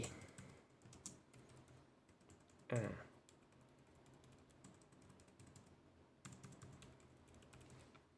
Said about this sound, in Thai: คีย์บอร์ดอย่างที่บอกว่าเป็นคีย์บอร์ดเป็น โดมยางนะครับ